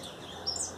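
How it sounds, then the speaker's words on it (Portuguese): Birds singing in a backyard, where a thrush has been spotted: a faint, brief chirp rises over a quiet outdoor hush, with no talking. "muito passarinho aqui no quintal,"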